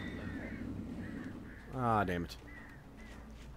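Crows cawing in the Alan Wake video game, a harsh cluster of caws over a low ambient drone, with a voice speaking in the clip.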